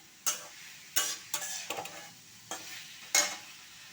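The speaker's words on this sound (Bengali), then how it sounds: "সবজির সাথে আমার মশলা কষা হয়ে গেছে একদম পুরো" A spoon scrapes through vegetables and spices cooking in a pan in about six sharp, separate strokes. A faint low sizzle of frying carries between the strokes, close and fairly quiet.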